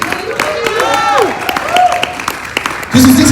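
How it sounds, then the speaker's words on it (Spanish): A church congregation claps and cheers after being asked to applaud, a dense patter of hands with shouts and voices rising over it, loud and close, swelling again at the end. "le pido que le dé un fuerte aplauso y un fuerte grito de alegría"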